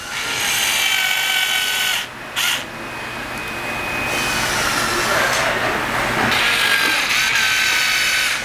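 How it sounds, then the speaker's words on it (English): Power drill driving the perimeter screws of a cover plate on a TRUBLUE SPEED unit, a loud steady whirring motor with brief dips between screws, close up and running almost continuously. "I don't screw the screw all the way down. I do it about 3/4 of the way"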